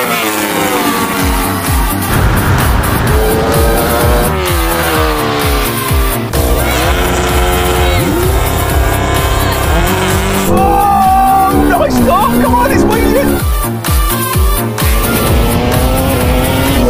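A Porsche 918 and a Red Bull KTM V4 MotoGP bike of just under 1,000 cc launch off the line in a quarter-mile drag race. Loud engines scream up through rising gear changes with tire squeal, and a voice shouts over them.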